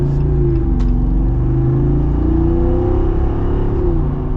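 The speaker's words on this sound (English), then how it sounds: "These particular tires are a little bit louder than the stock ones, but it's just the tread pattern." Steady, loud interior drone of a 2023 Jeep Wrangler Rubicon 392 Xtreme Recon on the move, a low engine hum blended with constant tire road noise from aftermarket tires with an aggressive tread, unbroken and without talk.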